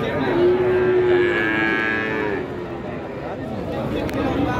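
Limousin cattle moo at a livestock market in Jatim, a long, deep, close lowing call followed by a second, with someone talking over the busy market noise.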